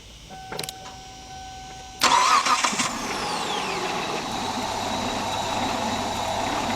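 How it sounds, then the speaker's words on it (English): A faint click and whir, then a car engine with a suspected failing fuel pump cranks and catches with a burst of noise, settling into a rough, steady running sound before stalling. "you hear the vehicle stalling out"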